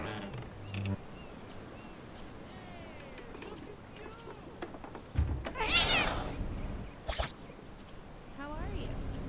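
A cat meows several times in POSTAL 4, short high cries under game ambience and a voice.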